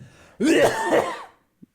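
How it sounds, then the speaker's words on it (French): A burst of two or three rough, throaty coughs, close and fairly loud, followed by silence and a faint small sound at the end. "Non, c'est toi qui tousse."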